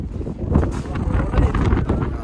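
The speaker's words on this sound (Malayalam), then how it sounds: "കാറ്റടിച്ചിട്ട് വരുന്നുണ്ട്" Wind gusting across the open hilltop at Nandi Hills, a steady rumbling buffet of air on the microphone with stronger surges, heard under a voice talking.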